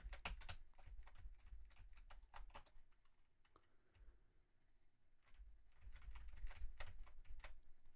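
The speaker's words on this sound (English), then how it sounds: "As I stab at the keyboard." Rapid, uneven bursts of typing on a computer keyboard, close and fairly quiet, with a brief lull in the middle before the clatter resumes.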